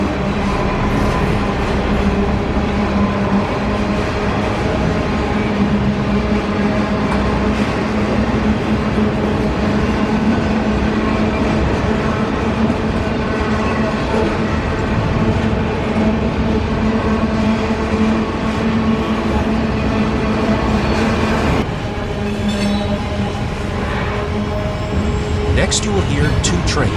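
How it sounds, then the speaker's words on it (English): A freight train picks up speed through Irondale, Alabama, with a loud, continuous rolling rumble, steady engine drone and metallic wheel noise filling the whole stretch without letup. "The train is picking up speed as it moves down"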